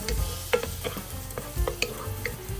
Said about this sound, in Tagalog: Igisang mabuti ang bawang hanggang lumabas ang aroma nito.